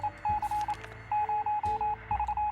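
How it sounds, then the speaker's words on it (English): Morse code radio signal in the video game 60 Seconds: steady runs of short and long electronic tones beeping in rhythmic bursts, with brief pauses between groups, over a faint background hiss and no talk. "Morse code!"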